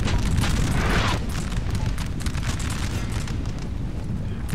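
A dense, rumbling volley of musket fire in a Napoleon: Total War battle rolls on continuously, booming shots blurring together in a distant battle roar.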